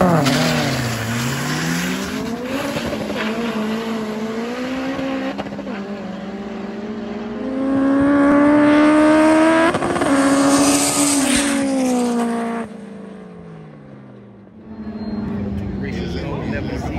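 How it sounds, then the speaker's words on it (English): Race car engines revving hard and sweeping up and down in pitch at a drag racing event at Vernam Field, Jamaica, with tires squealing, loud and sustained, rising to a peak before easing off. "You want to hear the engines revving, tires screeching, all of that"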